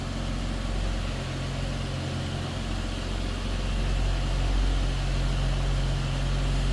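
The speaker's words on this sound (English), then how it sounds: "Slip around to the back of this vehicle, so you can hear it run." A 1955 Dodge Power Wagon engine runs at a steady idle, heard from behind the truck through a mild exhaust, a constant low rumble that stays even throughout.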